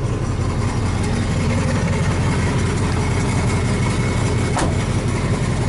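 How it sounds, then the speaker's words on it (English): 1986 Chevy K-10 pickup engine idling with a rattly old muffler, a steady, loud, low rumbling drone heard up close with no talk and one brief click partway through. "A rattly old muffler."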